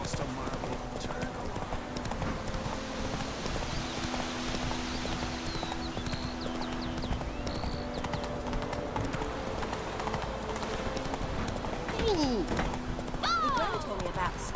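Roach, a horse in The Witcher 3, trots along with steady clip-clop hoofbeats under game music and ambience, with a voice speaking over the hooves and a whinny-like rise near the end.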